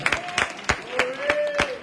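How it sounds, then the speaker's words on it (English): A church congregation claps their hands in a quick, uneven rhythm of sharp claps, with a sustained sung or spoken tone running underneath. "clap your hands, church."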